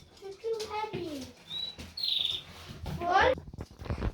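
Pet canaries chirp in short bright bursts and trills, fairly close by, interleaved with people talking nearby in a domestic setting.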